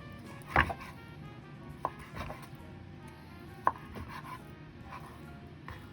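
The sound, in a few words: knife chopping raw salmon into cubes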